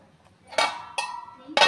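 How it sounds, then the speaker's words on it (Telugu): A metal lid set onto a cooking pot of chicken biryani in a home kitchen, giving three sharp clanking hits spaced apart, close and fairly loud against quiet background. "మూత అయితే పెట్టి ఉడకబెడదాము"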